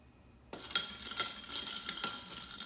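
A drink with a cherry in it being stirred, giving soft, close clinks and swishing of ice and liquid against the glass in a short irregular run after a quiet start, with no talking.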